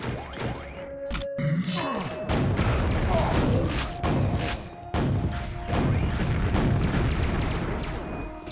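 Grenade launcher blasts in the game Quake, a run of loud, heavy thuds and booming explosions following one another at irregular intervals, each with a short crashing decay.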